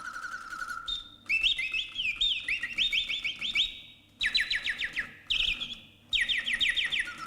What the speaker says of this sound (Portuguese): Enquanto um pássaro canta, o outro está caladinho.